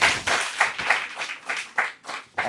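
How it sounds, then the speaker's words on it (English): Scattered clapping from an audience at a panel session honouring Lieutenant General J.S. Bajwa, a handful of close, uneven bursts of hands that thin out into separate claps. "please clap for him."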